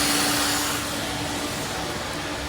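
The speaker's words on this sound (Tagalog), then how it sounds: "Buti pa itong machine, tagalinis natin dito." An automatic floor cleaning machine runs inside a Walmart store in Toronto, giving a steady, fairly loud whirring drone with a constant hum that holds evenly throughout.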